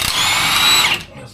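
Power tool spinning to remove a shock bolt during a 4-link suspension install, one short close whirring burst that winds down and stops.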